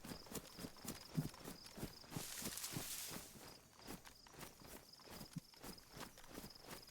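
Steady footsteps crunch in a regular rhythm through the tactical shooter BodyCam, fairly close and moderately loud over faint insect-like ambience, with a brief hissing swell partway through.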